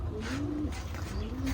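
A pigeon coos softly beside its clutch of eggs, giving two drawn-out, rising-and-falling coos close to the listener over a steady low background hum.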